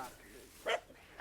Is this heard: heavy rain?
no